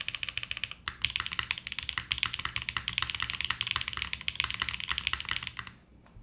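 Rapid clacking keystrokes on a computer keyboard with a loose, unscrewed spacebar mount, dense and steady for about six seconds before stopping, close by with no talking.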